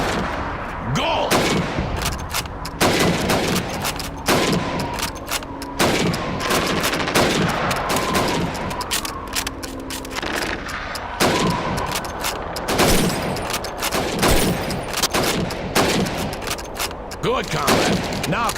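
Rifle shots crack out rapidly in Call of Duty 2 as a soldier fires at helmets in a timed training drill near Moscow, with loud, close bursts and single shots repeating over eighteen seconds amid other battlefield gunfire.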